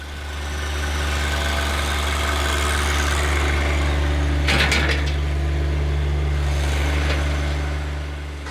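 A John Deere 1025R compact tractor fitted with a loader runs while tilling soil that still holds some tree roots, its engine giving a steady, close, low drone with a brief rattle midway.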